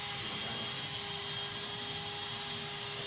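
A power carving rotary tool runs at steady high speed, a continuous whine with tonal lines and a broad airy hiss, close and unbroken for the whole stretch with no talk.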